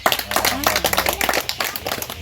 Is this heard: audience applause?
yes